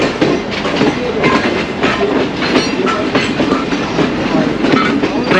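Freight coaches being shunted by locomotive 6429 clatter over track switches in the Lahore Junction railway yard, a loud, continuous rumble with rhythmic clickety-clack wheel beats and no voices.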